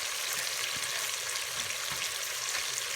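Fenugreek leaves with potatoes and peas sizzle steadily in a hot pan, a continuous close frying hiss with faint stirring scrapes underneath and no voices.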